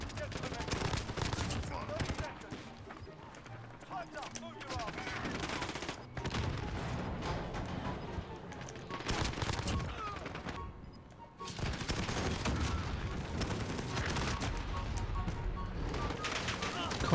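Dense bursts of automatic gunfire and rapid shots from Call of Duty: Modern Warfare on the Rust map, loud and near, nearly continuous with brief pauses, while a player talks over the action.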